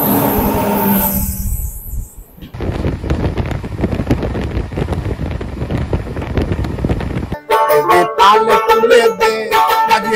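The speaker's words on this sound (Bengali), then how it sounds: "এটা আসানসোল দুর্গাপুর চলে গেল।" An Asansol–Durgapur train rushes past close by, a loud rumbling clatter of wheels buffeted by wind, followed by rhythmic rail noise as the passage continues.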